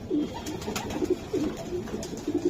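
A male white racing pigeon coos nearby in low, throaty phrases that repeat several times in quick succession.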